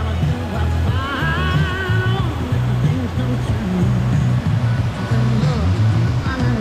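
Loud, constant rushing roar of water at a waterfall in a hidden natural spot, with someone talking over it throughout.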